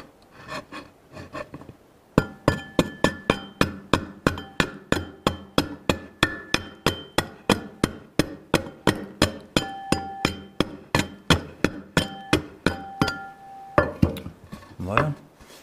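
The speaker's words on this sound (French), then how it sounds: "en orientant notre doloire, on en profite aussi pour commencer à donner l'angle ici" Steady broad axe (doloire) blows hewing a timber, a regular run of sharp close strikes with a brief pause near the end, louder and denser after the first couple of seconds.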